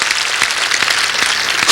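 A church congregation at a Sunday worship service bursts into loud, dense applause, a continuous clatter of many hands clapping at close range with no voices over it.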